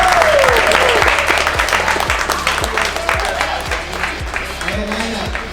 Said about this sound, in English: Can we get a little bit of applause,